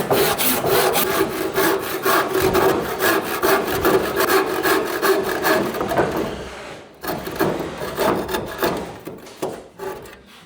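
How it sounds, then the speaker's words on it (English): A handsaw rasps through wood during an oak kitchen install, close and loud, with fast rhythmic back-and-forth strokes, a brief pause, then more strokes. "Sometimes you just can't beat a handsaw."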